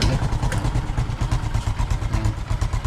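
A Honda RS 125 motorcycle, recently flood-submerged, runs with a steady close engine chug and fast rhythmic pulsing throughout, loud and alone without talk.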